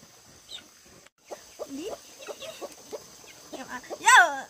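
Chickens clucking while being fed, soft scattered clucks and chirps with a louder squawk near the end, close by, with people talking nearby.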